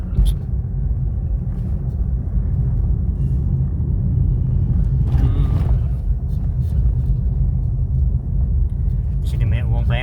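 A congested, busy street gives a loud, steady low rumble of engines and passing vehicles close by, with brief higher engine whines, while voices talk over it.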